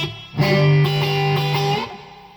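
Electric guitar played through a Quilter Tone Block 202 amp head with a Texas blues tone: a single bent, sustained note or chord that rings clearly for about a second and a half, then fades, with no one talking.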